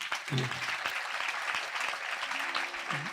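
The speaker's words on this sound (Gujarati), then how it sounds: "ચલો, તાળીથી વધાવો બધા." Audience at a Gujarati religious gathering clapping steadily for about three seconds, a dense patter of hand claps filling the hall with a few low voices and murmurs mixed in.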